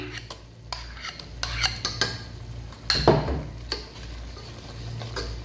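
Boiled potatoes and chickpeas stirred into tomato-onion masala for chikar cholay, a spoon repeatedly scraping and tapping the pan in an uneven rhythm over a low steady hum, with light sizzling and no talk.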